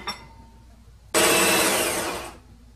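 Electric mixer beating butter and sugar together for a vanilla sponge cake, a steady loud whirring burst of about a second after a quiet start, then cutting off.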